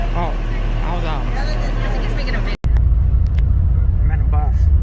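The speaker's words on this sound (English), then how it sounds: "I'm in a bus." Steady low rumble of a bus engine heard from inside the cabin while riding between Santa Clara and Trinidad, Cuba, continuous and fairly loud with a brief dropout midway and faint voices beneath.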